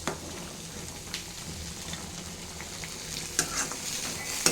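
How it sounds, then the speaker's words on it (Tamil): Prawn gravy sizzles steadily in a pan while a spoon stirs it, with light scraping knocks over the constant close frying hiss. "இந்த பக்கத்தில் ப்ரான் கிரேவி ப்ரிப்பேர் பண்ணிகிட்ருக்கேன்."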